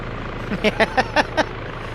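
Two combat helicopters in a multiplayer video game thud past with a brief run of five rhythmic rotor pulses over a steady engine drone, with no talking.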